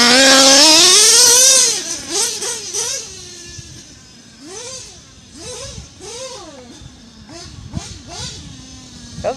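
Teckno NT48.3 nitro RC engine running lean, a loud high-pitched scream that drops, then a string of quick rising and falling revs blipping up and down, close and alone.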